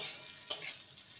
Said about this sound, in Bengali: পোস্ত দেওয়ার পর আরও 2 মিনিট আমি ভেজে নেব।